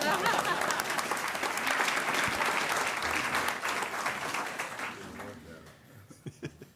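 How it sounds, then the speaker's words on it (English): Audience at a school board meeting claps steadily in a dense burst that fades out over the last couple of seconds, leaving a few scattered claps. "I'll clap."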